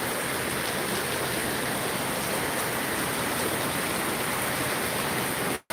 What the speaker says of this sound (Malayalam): അതിഗംഭീര മഴ